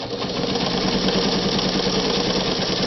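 A vintage Kingston Precision Synchro-Matic sewing machine stitches at a long stitch length, giving a steady, loud mechanical whir with a rapid, even needle rhythm throughout.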